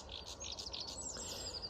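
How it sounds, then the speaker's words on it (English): A sedge warbler sings a short, hesitant burst of scratchy chirps and trills at a nature reserve during the spring dawn chorus, fairly faint and distant over a low background hum. "He's not really getting going, but that's a sedge warbler."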